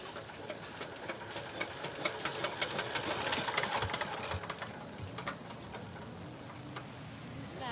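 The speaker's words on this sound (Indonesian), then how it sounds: "kita coba lagi, mesinnya butuh pemanasan" A plastic-to-fuel conversion machine warming up, giving a steady busy mechanical clatter of rapid ticking beats that swells in the middle and holds at a constant moderate level throughout.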